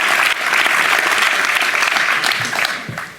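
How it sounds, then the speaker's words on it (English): Steady audience applause for Nancy Chabot and Bill Nye at a live space-politics event in Washington, D.C., a short burst of dense clapping that tapers off near the end. "can you guys give a round of applause for both Nancy Chabot and Bill Nye, the science guy?"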